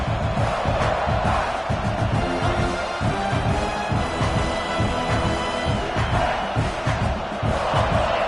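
A football stadium crowd roars and bellows in support of its defense, a thick, rumbling wall of cheering voices and whoops that stays loud and unbroken throughout.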